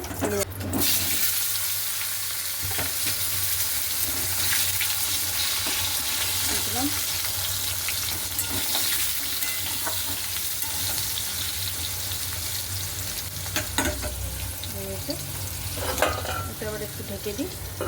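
Fish heads fry in a pan with a loud, continuous hissing sizzle that lasts the whole time, broken by a few sharp crackles and spatters and some stirring noise.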